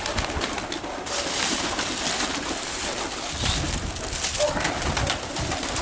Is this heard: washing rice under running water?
no